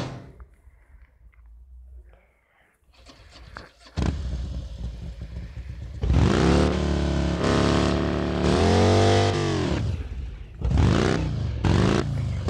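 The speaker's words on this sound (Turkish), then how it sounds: "1800cc V-Twin diye adlı bir motor." A simulated 1800cc V-Twin engine in the RevHeadz Engine game sputters faintly at first, then fires up and revs hard in several rising and falling bursts, loud and close with short gaps between throttle blips.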